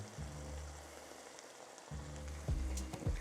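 Ground beef and potatoes picadillo, seasoned with California chili powder, sizzles softly in a pan with a steady low hiss, and a few brief stirring scrapes come near the end.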